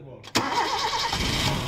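A 1989 Toyota Kijang car engine catches and revs after a brief silence, a dense mid-range roar that holds steady and close for the rest of the moment, with a voice briefly audible.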